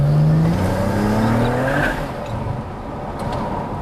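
A BMW 335i with an N54 engine and a hybrid turbo accelerates hard, the engine tone climbing loudly before the drive settles, with faint tire noise as the wheels struggle for grip.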